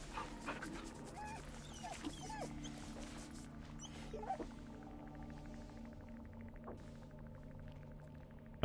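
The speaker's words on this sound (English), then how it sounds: "Always take the opportunity to pet the dog." A dog whimpers softly in Baldur's Gate 3, with faint whines and pants over a low background hum, quiet and intermittent.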